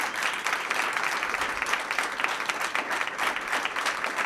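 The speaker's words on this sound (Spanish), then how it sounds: "pido un fuerte aplauso para Fabio." Loud, sustained applause from an audience at a live law podcast recording, dense overlapping clapping that holds steady throughout without a break.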